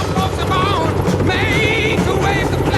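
A helicopter from a Vietnam War movie scene, its rotor drone steady and loud under voices talking over it.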